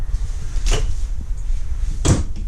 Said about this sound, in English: Drawers for linens.